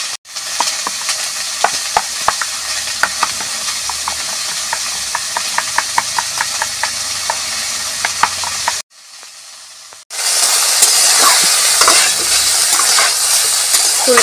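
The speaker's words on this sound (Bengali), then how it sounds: "ফুলকপি ভাজা হয়ে গেছে" Cauliflower fries in oil in a pan with steady crackling sizzle while a spoon scrapes and stirs in quick, regular strokes. After a short muffled pause, the sizzle returns louder and brighter.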